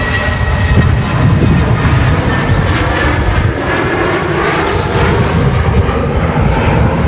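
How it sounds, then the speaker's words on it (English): A British Airways A320 airliner departing London-bound gives a loud, continuous jet engine roar with a gritty low rumble and slight swells, heard from outside at close to moderate range, with no speech over it. "British Airways shuttle service A320 heading back to London Heathrow"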